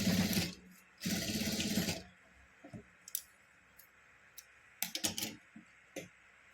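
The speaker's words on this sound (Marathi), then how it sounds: "तर चला आपण शिलाई मारून घेऊ" Electric sewing machine stitching the sides of a fabric bag in two short whirring bursts, followed by scattered clicks and taps as the cloth is adjusted, close up with no speech.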